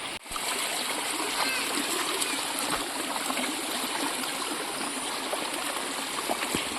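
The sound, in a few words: water flowing out of a hillside tunnel well in rainy season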